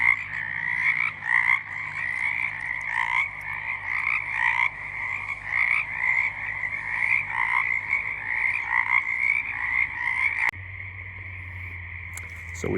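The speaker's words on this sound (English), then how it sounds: "when you start hearing the frogs singing and making their rivets" Dense chorus of frogs, including green tree frogs, croaking at night in a steady, pulsing rhythm, many calls overlapping continuously, with a low hum beneath.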